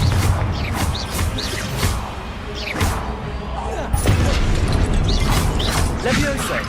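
Spell blasts from Hogwarts Legacy combat come as repeated sharp bursts and thuds, including a fiery Confringo explosion, mixed with clattering game effects and ongoing battle noise. A player calls out spells.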